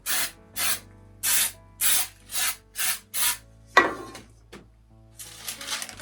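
Seven short, even hissing bursts of baking spray coat cake pans for a classic yellow cake, followed by a can clatter and softer rustling.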